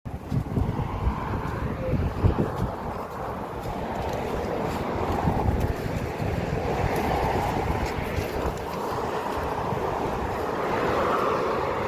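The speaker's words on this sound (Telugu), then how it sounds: "మాల్యా సముద్రం సైడు." Sea waves wash along the Maliya seafront in Kuwait City, a steady broadband rush mixed with strong wind buffeting the microphone, continuous and fairly loud with no speech.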